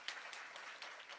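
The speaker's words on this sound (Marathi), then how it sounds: "टाळी वाजवा एकदा सगळ्यांनी." Audience at a Marathi kirtan clapping together, a dense steady patter of hand claps with a few sharper peaks, moderately close throughout the short burst.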